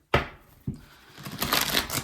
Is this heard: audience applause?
no